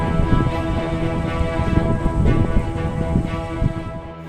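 Heavy rain pours in Jodhpur during an unseasonal storm with strong winds, a dense, continuous roar of rainfall close by with gusty rumbling underneath and no voices.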